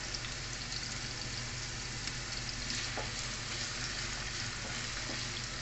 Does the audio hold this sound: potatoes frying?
yes